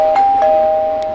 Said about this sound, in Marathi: वाजली, बेल वाजली, टिंग टॉंग.